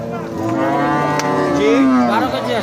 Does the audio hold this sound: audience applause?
no